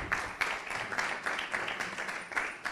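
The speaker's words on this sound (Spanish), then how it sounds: "Así que un aplauso para el autor, Paco Morán" At a book presentation, an audience applauds the author with continuous clapping that holds steady and dense throughout, heard close and fairly loud with no talking over it.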